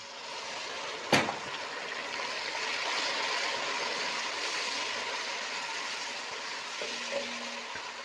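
Yakhni stock poured into golden fried onions for Lahori murgh chanay, a steady watery hiss and gentle sizzle running throughout, with one sharp clink near the start and a faint tone toward the end.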